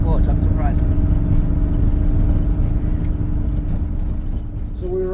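A 1976 Porsche 911 Turbo (930) at full throttle on a road test, a loud steady engine drone inside the car with a few brief higher tones, while people talk over it.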